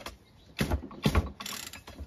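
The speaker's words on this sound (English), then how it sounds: "you should have a hard time pulling that cord" Recoil starter cord on a small engine yanked twice, each pull giving a short ratcheting, whirring mechanical burst, followed by a lighter rattle, close and moderately loud with no talking.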